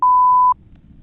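A phone gives a single clean electronic beep for an incoming call during another call, a steady half-second tone, loud and alone against a quiet background.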